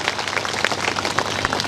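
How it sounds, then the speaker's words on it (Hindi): Crowd applause at a farmers' maha panchayat gathering in Laharpur, a dense, steady wash of clapping from many hands, fairly loud and continuous without speech. "तालियां बजाकर इनका हौसला अफजाई करें"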